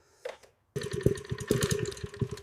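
A restored motorcycle, rebuilt after being found destroyed in a dumpster, is kicked over cold, giving a brief cough and then catching into a rough, uneven engine start, loud and close.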